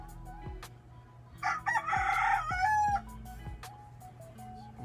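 A rooster crows once, loud and fairly close, its drawn-out call rising and then falling, with sharp clicks and a low hum around it.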